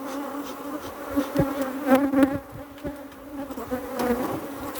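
Honey bees buzz at a hive in a steady, dense drone of many wings, close and continuous, with a few louder passes swelling near the listener.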